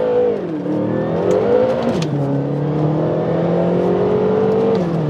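A BMW M5 V8 in its most aggressive setting accelerating hard with manual gear changes, a loud close engine note climbing steadily in pitch, dropping at each shift, then pulling up again.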